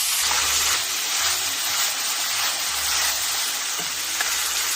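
Mirin poured into a hot pan of oil and softened shallots sizzles and hisses steadily at close range, with a broad, even crackle and some low bubbling running through.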